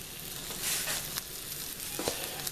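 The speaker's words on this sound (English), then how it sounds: "They're starting to sizzle." Pork chops sizzle in an oiled pan, a close, steady frying hiss with small pops and crackles, no voices.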